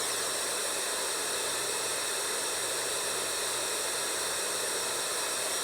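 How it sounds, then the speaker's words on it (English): An 8-sound adult white noise machine, model BRRC122, plays its white noise setting: a steady, even broadband hiss that runs unchanged from start to finish with no voices. "White noise."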